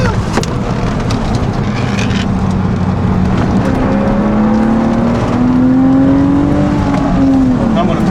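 A race car drives fast around the Nürburgring, its engine droning loud and steady with a rising whine as it accelerates, while people talk over it inside.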